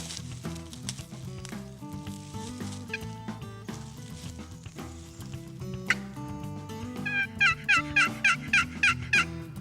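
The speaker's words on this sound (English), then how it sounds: "The gobbler we were hearing was going away" A wild turkey gobbler gobbles in a rapid series of rattling calls near the end, answering a box call during a turkey hunt, over a busy background with sizzling-like noise and other tones.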